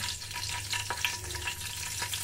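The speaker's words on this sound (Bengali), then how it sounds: "দিয়ে দেবো কিছুটা সাদা জিরে ফোড়ন" Bay leaf and white cumin tempering sizzling in hot oil, a steady broadband crackle with a few soft pops, close and fairly loud, no voices.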